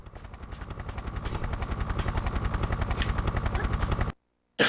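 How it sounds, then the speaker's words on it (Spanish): A helicopter in Tomb Raider 3 on PlayStation makes rapid rotor chopping that builds and holds loud for about four seconds, then cuts off abruptly, with a burst of another sound right at the end. "Debería dispararle al helicóptero."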